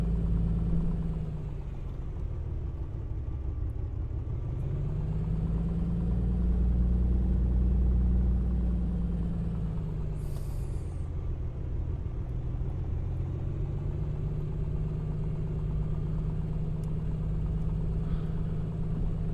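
Piper Comanche 250 engine in the A2A flight simulator, a steady low droning rumble as the aircraft taxis, pitch sagging and rising gently, alone with no talk.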